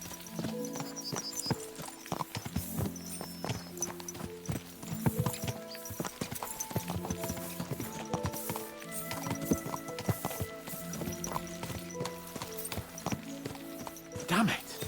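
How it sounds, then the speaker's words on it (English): Horses galloping hard in the medieval video game Kingdom Come: Deliverance II, a steady rhythmic clip-clop of hooves with occasional whinnies, close and continuous, while someone talks over it. "Let's really spur these horses on, eh?"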